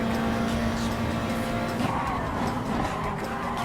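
Race car in a racing video game at Monza slowing into a corner, a dense steady engine drone whose pitch drops as it brakes and downshifts, loud and close throughout.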